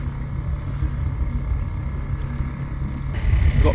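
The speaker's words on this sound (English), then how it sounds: "Got my Suzuki engine, my new one. They tell me to run it for 5 minutes to warm the oil up." A new Suzuki outboard boat engine idles steadily to warm its oil at low tide, a constant low rumble with wind noise, rising slightly louder near the end.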